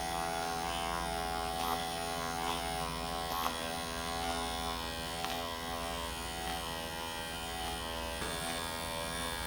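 A Dr. Pen microneedling pen held down and pressed firmly against skin, giving a steady, continuous electric buzz with a faint hum, unbroken for the whole stretch and heard up close without talk.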